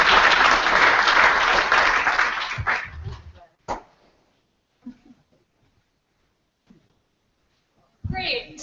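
Audience applause for four panelists at a self-advocacy symposium: a dense, loud clapping burst that tapers off after about three seconds into a few scattered claps, near-silence, and a brief noise at the end.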